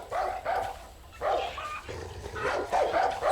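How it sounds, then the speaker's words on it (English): A dog barks and yelps in short bursts, several close barks with whiny, muffled tones spread over a few seconds, no talking heard. "So definitely sounds like the dog"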